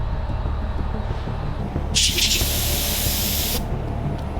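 Paint spray gun with a bad seal and a freshly tightened nozzle gives a loud, steady hiss for about a second and a half, then stops, over a low background hum.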